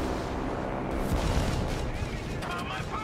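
Anti-aircraft gunfire from a Wirbelwind in a video game aimed at a reconnaissance aircraft, a dense, rumbling barrage of booming shots and blasts mixed with a voice talking over the clamor.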